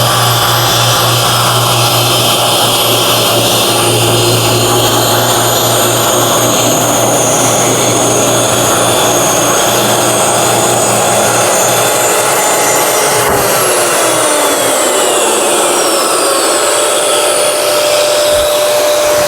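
A plunge saw cutting straight across an oversized wooden board in a small shop, its motor a loud steady whine throughout, with the pitch shifting as the blade runs through the cut and winds down near the end.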